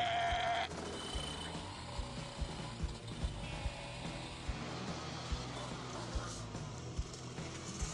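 Goats or ibex on a mountain road at altitude, with clip-clop hooves and faint bleats under a steady rumbling background, the animals moderately distant.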